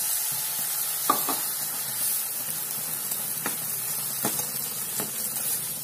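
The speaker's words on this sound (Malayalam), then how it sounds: "നല്ലോണം ഇത് മിക്സ് ചെയ്ത് വരണം." Milk stirred into a cocoa powder and sugar mixture for a Diwali sweet: a steady soft hiss with a few faint spoon scrapes and clicks against the pan, close and fairly quiet.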